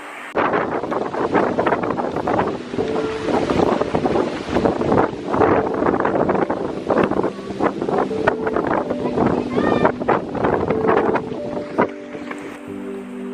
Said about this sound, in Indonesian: angin kencang mulai menerpa kami